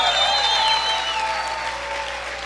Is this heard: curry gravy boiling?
no